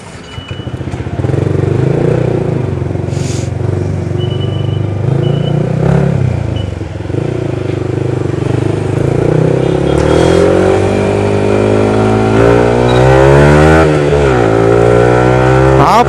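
Yamaha R15m motorcycle exhaust roaring loud and close, steady engine drone with repeated revving swells and rising pitch sweeps as the bike accelerates.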